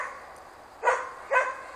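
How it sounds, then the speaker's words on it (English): Two close, loud barks spaced about half a second apart from a male Swedish Elkhound (Jämthund), each one short and sharp, heard against a quiet background with no talking. "But this is going to be a magnificent full-size dog."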